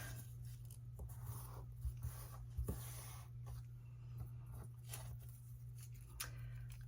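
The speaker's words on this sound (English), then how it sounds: "I'm going to fold the book page" Paper crafting with a book page being folded, soft faint rustles and short creasing scrapes scattered over a low steady hum, close and quiet with no one talking.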